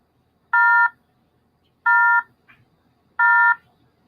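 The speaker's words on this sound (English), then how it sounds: "It said it was an invalid number and it gave that funky sound" A house phone plays the invalid-number intercept tone: three identical loud electronic beeps, each about a third of a second, evenly spaced over quiet background with no talk.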